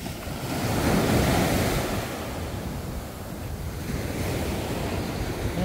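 Rough sea waves surge and wash continuously, with wind buffeting the microphone and a swell that rises and falls; no voices are heard.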